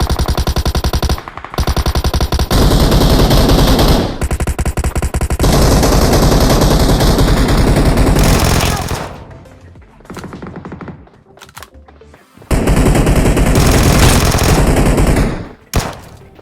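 Loud rapid automatic gunfire in PUBG Mobile, coming from a lower floor of a building: long sustained bursts with short breaks, then a quieter echoing stretch before another heavy burst.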